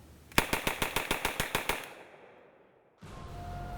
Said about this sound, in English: the gun could fire 450 rounds per minute with a higher degree of accuracy than the Thompson